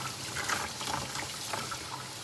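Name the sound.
rinsing hydroponic plant roots with water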